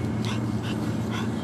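A puppy whimpers and yips in short bursts close by while a steady low hum runs underneath, with no voices.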